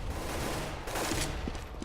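Rapid gunfire in a Counter-Strike match, a short burst of several sharp shots in quick succession, loud and close, with no talk.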